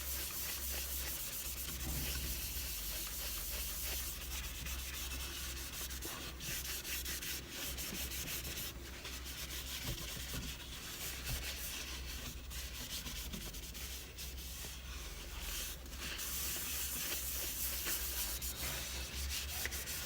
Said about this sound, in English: I'm just going to finish with Hampshire Sheen microcrystalline wax